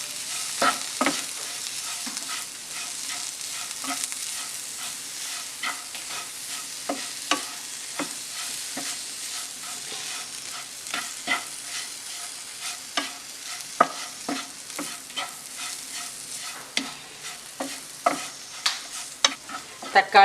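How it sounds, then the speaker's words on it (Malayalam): Tomatoes being stirred in a frying pan for pork curry, with a steady sizzle broken by repeated sharp scrapes and clicks of the spoon against the pan, close and continuous for about twenty seconds with no talking. "ഈ തക്കാളി ഒന്ന് വേവുന്നോടെ വരെ ഇളക്കി കൊടുക്കുക."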